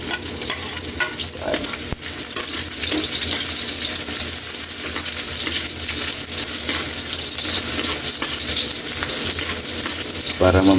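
Garlic, onion and ginger frying in a pan for ginataang tahong, a steady close sizzle with stirring scrapes running loud and unbroken, and a brief hint of running water in the background.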